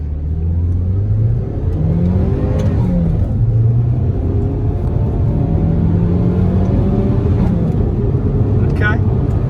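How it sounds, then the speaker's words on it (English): A 2009 Chevrolet HHR SS on a test drive, heard from inside the cabin: the engine note rises and falls through several accelerations over constant road rumble, with people talking over it. "Test driving the SS HHR."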